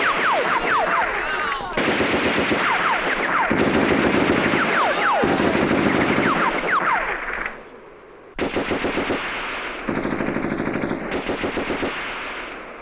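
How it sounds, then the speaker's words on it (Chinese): Soldiers' rifles and machine guns firing in a war film battle scene: loud, rapid bursts of automatic fire, with dense rattling volleys broken by brief pauses and a sharp drop in intensity partway through. "枪口抬高， 射击。"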